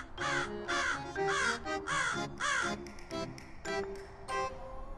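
A house crow caws loudly and close, a run of about ten harsh, evenly spaced calls in quick succession, then a few shorter clipped caws trailing off.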